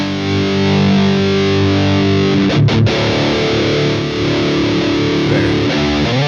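Electric guitar played through an Orange TH30 valve amp head, boosted so the power tubes start to work, giving a loud, thick, distorted sustained chord that shifts to another ringing chord partway through, with no talking.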